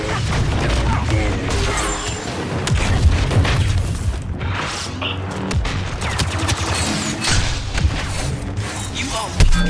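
Artillery barrage in the Star Wars Battlefront video game, repeated heavy booms and crashing impacts layered with rapid blaster-like fire, loud and near, rolling on steadily throughout.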